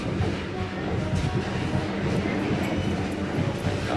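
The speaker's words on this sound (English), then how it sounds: "One more hour and I'm free from this train prison." A train rolls along the rails in Vietnam, heard from inside as a dense continuous rumble with rattling and faint clacking, steady throughout.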